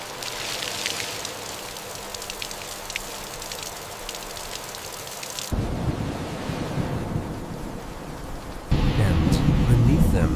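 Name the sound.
heavy slanting rain during a storm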